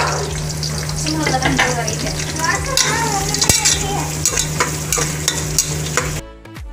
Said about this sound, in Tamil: தக்காளி வதக்கணும் நல்லா வதக்கணும்